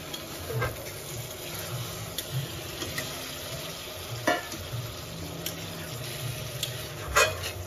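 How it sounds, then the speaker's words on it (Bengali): Fish curry with spices being stirred in a pan after water has been added, giving a steady bubbling sizzle. A few clearer scrapes and knocks from the stirring utensil rise above it, and no one talks. "জল অ্যাড করে ভালো করে একটু নাড়াচাড়া করে নিচ্ছি যেন মশলাগুলো মাছের গায়ে ভিতরে ঢুকে যায়।"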